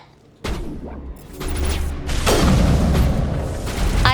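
Gunfire and heavy booms during an attack in the video game Mass Effect 1, a sudden onset that builds into a dense, loud wash of shots and impacts that continues without pause.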